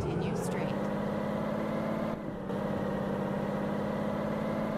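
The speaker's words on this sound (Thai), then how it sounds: "ถ้าเราเปิดกระจกนะครับเสียงเครื่องยนต์มันจะดัง" A truck engine idles with the cab window open in the video game Truck Simulator Ultimate, a loud, steady low rumble with a brief dip partway through.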